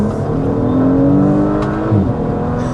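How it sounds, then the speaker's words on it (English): A 2026 Audi S5 sport sedan engine revs up loudly under acceleration in dynamic mode with exhaust valves open, a rising throaty exhaust roar heard from inside the vehicle. "the exhaust, it goes ahead and opens up those valves to give you the maximum noise"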